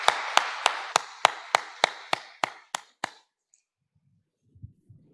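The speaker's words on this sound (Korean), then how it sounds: "우리 하나님께 영광의 박수를 올려드립니다" A church congregation claps in unison, about ten crisp, evenly spaced claps over three seconds. The clapping then stops, leaving a few faint, scattered sounds.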